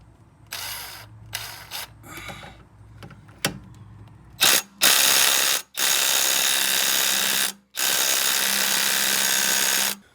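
An impact wrench works on a stuck, soaked bolt on a car, first in short clicking and rattling bursts, then in long loud sustained runs separated by brief pauses.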